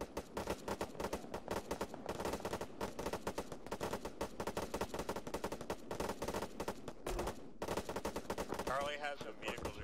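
Dense gunfire rattles through an Arma 3 battle on a beach. Rapid automatic bursts and single shots keep going with barely a break, loud and close, with faint voices under the fire.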